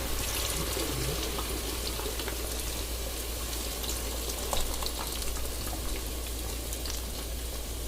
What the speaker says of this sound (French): Je vais mouiller avec la bière.